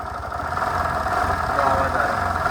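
A Suzuki Access 125 scooter engine idles with an abnormal noise, a steady, close mechanical hum with a rough rattling edge under a voice speaking.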